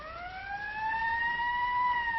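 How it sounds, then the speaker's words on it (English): An ambulance siren wails in a smooth rising and falling tone, fairly loud and steady, with no voices over it. "There's the ambulance now."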